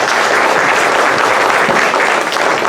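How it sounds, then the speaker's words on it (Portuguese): An audience in a missionary formation gathering bursts into loud, dense applause, a continuous wall of many hands clapping that holds steady throughout without any talking. "Uma salva de palmas."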